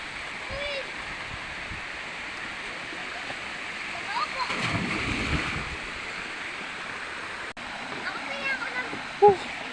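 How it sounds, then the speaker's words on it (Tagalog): Miami Falls, a tall waterfall, roars steadily as a continuous broadband rush heard close by, with voices speaking over the constant water noise. "Miami Falls."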